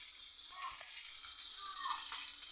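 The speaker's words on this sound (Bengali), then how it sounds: "আমি মাছটা ভেজে নিয়েছি তেলে, মাছটা দিয়ে দিলাম এর মধ্যে।" Fried fish sizzling in hot oil with soaked tamarind, a steady close crackle with brief stirring clinks, no talk.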